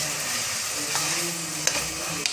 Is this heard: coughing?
no